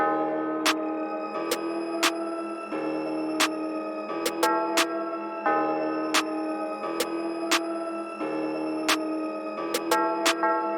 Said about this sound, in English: So this is what that snare with the clap sounds like.